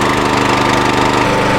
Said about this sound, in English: we start the engine